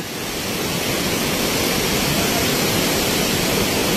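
Waterfall at Dingalan, Aurora roaring steadily, a loud, dense, unbroken rush of falling water heard up close with no other sounds.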